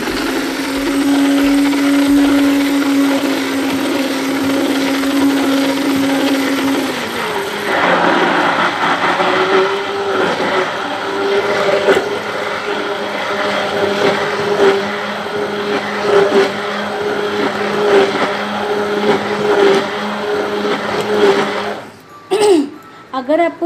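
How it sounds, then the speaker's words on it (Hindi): A grinder blending vanilla ice cream ingredients, a loud steady motor whine that shifts pitch partway through as the load changes, running continuously before cutting off near the end. "तो मैं दोबारा एक बार ग्राइंड कर लेती हूँ ताकि जो जितने भी इंग्रेडिएंट हैं वो अच्छे से मिक्स हो जाएं।"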